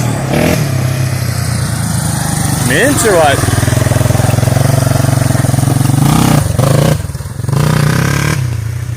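A Yamaha Warrior 350cc quad engine runs loud and close, rumbling steadily with rising revs and a brief dip near the end, as a voice speaks briefly over it.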